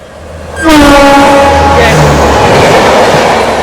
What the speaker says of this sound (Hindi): ज़बरदस्त रफ्तार पर शताब्दी क्रॉस होते हुए